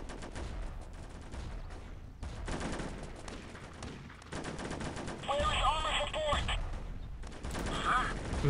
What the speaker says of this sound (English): Engineer's squad is under fire.